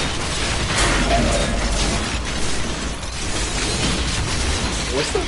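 Explosion in the video game Diablo 3, played in hardcore mode: dense, loud crashing and rumbling blasts with shattering debris noise, continuous for several seconds amid busy game combat sounds.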